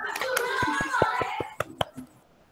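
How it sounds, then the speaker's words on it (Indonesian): A classroom group claps hands for a student team, a short burst of a few sharp claps near the end following a teacher's speech, close and moderately loud. "Kita tepuk tangan untuk kelompok 1"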